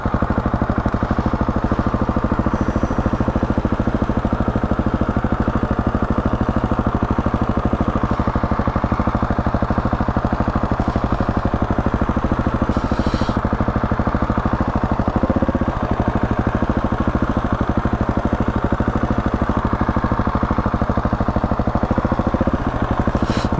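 A motorcycle engine running steadily while the rider leans through a slow cone exercise, throttle held with slightly raised revs; a continuous, even mid-pitched drone with a faint clattery texture, close and unbroken, with no talking.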